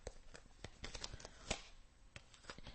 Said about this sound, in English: It's very hard to shuffle a deck that only has 10 cards,